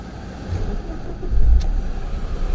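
A Toyota Yaris with a 1.0 engine starts up inside the car, a low rumble swelling around the midpoint and then settling into a steady idle, close and moderately loud.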